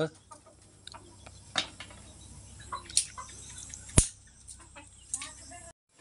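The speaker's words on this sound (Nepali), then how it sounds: "यता चाहिँ कुखुराहरू बसिरहेछ।" Chickens cluck sporadically nearby as they settle to roost in a village, with a few sharp squawks and clatters standing out against a low background hum.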